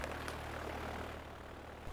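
A floatplane's propeller engine idles at low power while taxiing on water in Alaska. It makes a faint, steady, droning hum that stays constant for the short stretch.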